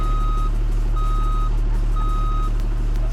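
A semi-truck reverses in the BeamNG driving game. Steady, loud electronic reversing beeps repeat about once per second over a constant low engine drone.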